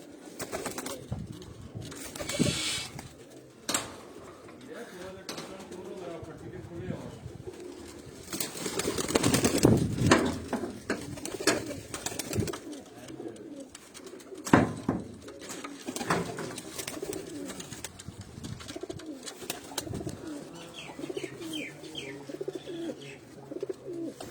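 Several pigeons coo in low, throaty bursts over a busy background, with occasional wing flaps and faint chirps from other birds.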